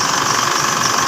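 An Isuzu MU-X diesel engine idles after a fuel filter replacement, a loud, close, continuous rumble with a steady mechanical clatter heard alone.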